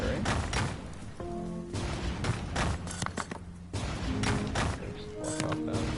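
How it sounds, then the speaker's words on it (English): Booming cannon blasts in the video game Dreams fire repeatedly in a dense, rumbling barrage, mixed with game music tones and other thuds. "You can hear the cannons firing."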